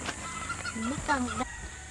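Chickens cluck and squawk in short bursts close by, with faint background noise and no talking.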